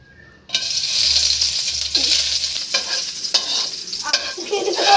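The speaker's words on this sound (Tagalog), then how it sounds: "Initin ng kawali. Lagyan ng mantika. Lagyan ng bawang." Garlic hits hot cooking oil in a pan with a sudden loud sizzle that keeps crackling steadily, broken by a few stirring scrapes.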